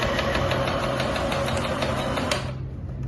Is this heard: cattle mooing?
no